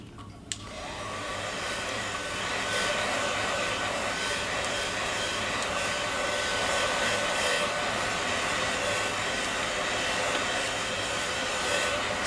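A hair dryer blows steadily with a continuous whirring hiss and a low motor hum, loud and close, running without pause.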